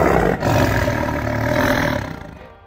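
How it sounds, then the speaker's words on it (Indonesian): A Bengal tiger or Asiatic lion growls threateningly, a loud, close, rumbling roar that swells for about two seconds before fading out. "Ketika keduanya menggeram, maka kita akan melihat aura binatang buas yang sesungguhnya."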